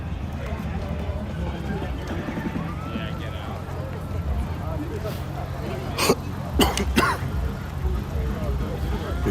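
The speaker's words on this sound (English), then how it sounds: "where everyone's coughing out here" People cough outdoors amid a noisy street protest, a few sharp harsh bursts standing out over steady crowd and traffic rumble.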